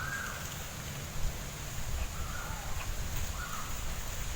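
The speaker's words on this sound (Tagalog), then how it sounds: "Mga huni ng ibon." Faint, distant bird calls in a farm field, a few harsh caws drifting in over steady outdoor background noise.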